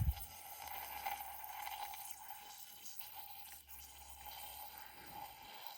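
Water poured into a container to start recovering gold from computer memory cards, ahead of adding nitric acid; a steady, close splashing wash with a low hum beneath, no voices.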